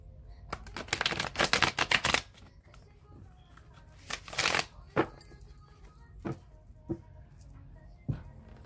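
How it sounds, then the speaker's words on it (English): A deck of tarot cards is shuffled in quick riffling bursts, with a dense flurry early on, another around the middle, and a few sharper single card snaps near the end, close and fairly quiet. "I'm going to shuffle it three more times"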